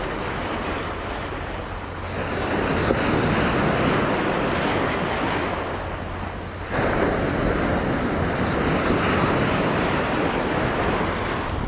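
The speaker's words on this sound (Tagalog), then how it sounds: "Hindi masyado malaki yung alon, sakto lang." Surf washing onto the Jeddah Corniche shore on the Red Sea at a fishing spot, a steady broad roar of moderate waves with wind buffeting the microphone, swelling louder around the middle and staying continuous throughout, no voices.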